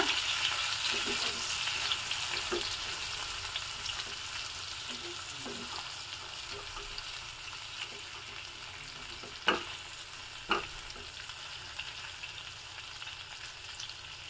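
Okra (lady finger) stirred with salt in a frying pan gives a steady soft sizzle, broken by a few sharp scraping clicks from the spoon.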